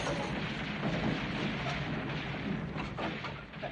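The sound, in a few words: big explosion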